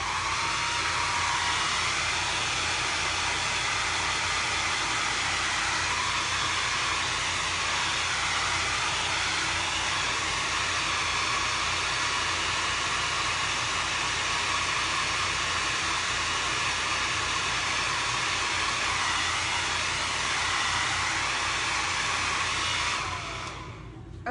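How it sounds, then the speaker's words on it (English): A blow dryer runs at close range while drying chalk paint lines on DIY Halloween decor, a loud, steady whooshing roar held for the whole stretch before it cuts off at the end. "I'm just going to dry these lines real quick. So excuse the blow dryer."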